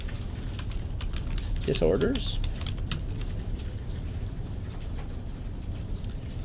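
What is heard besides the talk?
typing on a computer keyboard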